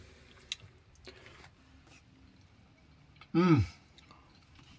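A mouthful of hot Spanish rice and beef is chewed close to the mic in one short, wet burst near the end, with a brief hum of enjoyment from the eater.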